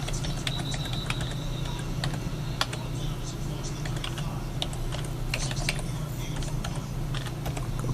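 A username and password are tapped out on a computer keyboard, with rapid irregular key clicks close by over a steady background hum.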